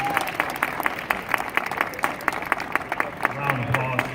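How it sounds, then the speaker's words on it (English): A room full of people clapping steadily, dense and sustained, with voices murmuring underneath. "Start clapping him up right now, Mr. Tyronne Stoudmire."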